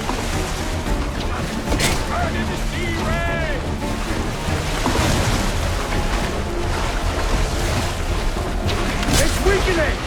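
Explosive blasts in a naval battle in Assassin's Creed Black Flag, heavy booms over a continuous roar of sea and ship noise with a voice speaking over it.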